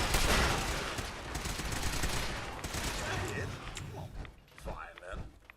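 Shotgun fire in the video game Fallout 4: a dense burst of loud blasts and crackling impacts fills the first seconds, then tails off into scattered clanks and mechanical noises.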